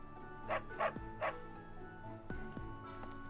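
Cartoonish dog barks from the video game Fire Emblem: Three Houses, three quick yips in a row followed by low thumping, set over a steady background music bed.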